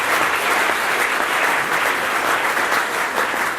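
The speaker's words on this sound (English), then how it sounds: "I think you all deserve a massive round of applause" Steady applause from a large crowd, dense and sustained throughout, with no voices standing out.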